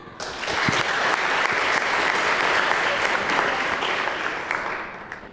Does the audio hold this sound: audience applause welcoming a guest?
yes